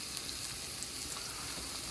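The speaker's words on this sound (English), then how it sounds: "Frying the onions, and I'm going to add ground chicken." Onions sizzle and crackle steadily in a hot pan, a soft continuous fry with small pops, heard alone.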